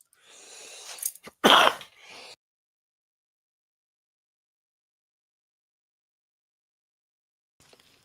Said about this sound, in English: had to cough up a loogie